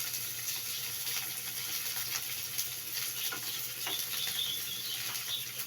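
Chopped onions sautéed in a pan for a Filipino dish, giving a soft, steady sizzle with occasional light stirring scrapes, fairly quiet and close.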